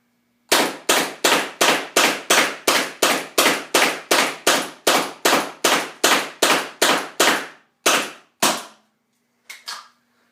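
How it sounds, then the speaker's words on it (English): An M17 paintball marker fires GI Sports recreational paintballs in a rapid string of about twenty sharp, loud pops at a steady pace, a few spaced shots closing the string, then a faint final rattle. "Still firing full power here. 20 rounds of mid-grade GI Sports, mid-grade paintball."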